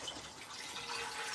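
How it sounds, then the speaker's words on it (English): Water runs from a kitchen tap to fill a pot for cooking pasta, a soft steady gush heard faintly and alone for a moment. "I'm gonna get some water"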